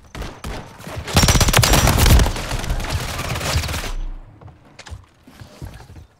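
Rapid gunfire from a PULEMYOT 762 machine gun in a Call of Duty Modern Warfare 3 multiplayer match on the Stash House map, a loud sustained burst of several seconds with scattered single shots before and after.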